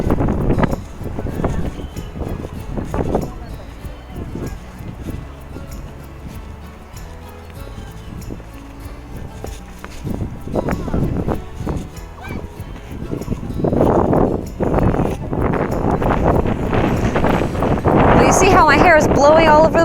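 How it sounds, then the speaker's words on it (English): Wind gusting across a hiking trail, a steady broadband rush that builds louder toward the end, with footsteps and a person talking over it. "That's because the wind is picking up."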